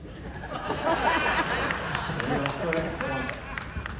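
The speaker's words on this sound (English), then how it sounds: "can I get people to clap for the train trip if you like the train trip?" An audience at a presentation of cruise ship features claps to vote for a train trip, scattered clapping mixed with laughter and crowd chatter throughout.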